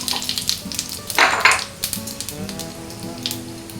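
Panch phoron and two bay leaves frying in hot oil in a wok, in a pan where small fish were just fried; a close, crackling sizzle with spatter bursts and a few utensil clinks, no voices.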